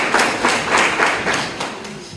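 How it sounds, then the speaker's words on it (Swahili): An audience at a gathering of traders clapping their hands, a brief burst of fairly close applause with irregular claps fading out, amid slight voice murmur. "jipigeni makofi"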